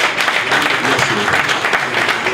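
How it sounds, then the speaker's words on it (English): Loud, dense applause from a large audience at a Big Brother Naija winner's reward ceremony, continuous broadband clapping with a crowd murmur filling the whole stretch, close and steady. "can you put a round of applause for them from people?"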